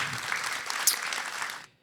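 Audience applause after a basketball talk event, a dense burst of clapping lasting under two seconds before cutting off abruptly.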